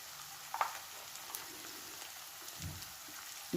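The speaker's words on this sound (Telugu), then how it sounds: "ఒక టమోటా కూడా బాగా ఉడికేటట్టుగా వేయించుకోవాలి." A chopped tomato fries in oil in a pan, giving a steady, soft sizzle with one or two light stirring scrapes, fairly quiet and continuous.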